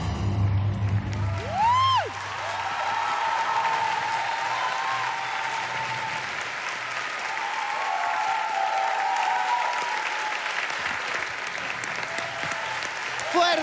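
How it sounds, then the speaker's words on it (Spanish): Talent show audience in a television studio breaking into sustained applause and cheers, broad and fairly distant, with a host's voice and background music running beneath it. "¡Fuerte el aplauso!"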